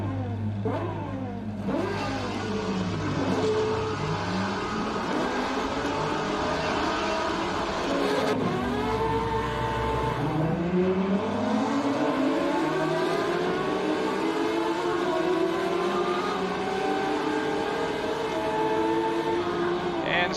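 A 1970 Ferrari 512S prototype racing in Assetto Corsa on the 1967 Nurburgring GP circuit, its engine roaring and revving through repeated gear changes, loud and continuous with pitch sweeping up and dropping.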